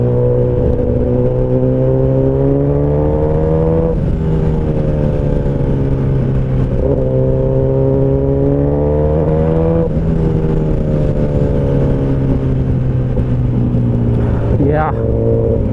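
A Kawasaki Ninja ZX10R superbike engine drones loud and close under way, its pitch climbing and dropping through several gear changes, with a brief sharp rise near the end.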